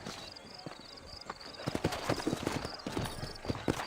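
Horse hooves clip-clop in the Red Dead Redemption video game, in a western frontier town, a quick irregular clatter of hoofbeats starting softly and growing louder and busier as the horses move off, with a faint high tone running underneath.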